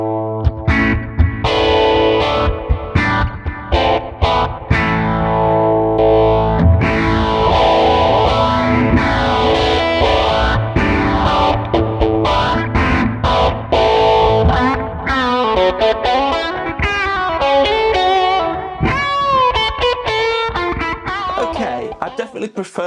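Electric guitar through an inexpensive amp modeler on a user-made preset, a distorted, chorus-washed tone strummed and picked continuously at full level with sustained chords giving way to busier single-note runs, no voices.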